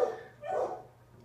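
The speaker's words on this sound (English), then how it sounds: "you guys can hear my dogs in the background. They pretty much go off at whatever sound." Pet dogs bark faintly in the background of a room, one or two muffled yips and a short bark with no talk over them.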